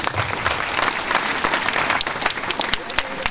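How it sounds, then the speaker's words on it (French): Dense crowd applause fills the air for the football players after the AF Virois versus SM Caen eighth-round cup match, sustained and loud throughout with a voice talking over it. "nos joueurs que je voudrais qu'on applaudisse s'il vous plaît ce soir"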